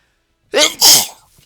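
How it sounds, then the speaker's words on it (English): A man sneezes once, close and loud, a sharp two-part burst with a quick inhale leading into the explosive release, then silence. "I gotta sneeze."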